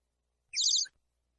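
A single short, high bird chirp lasting under half a second, clear and close against silence.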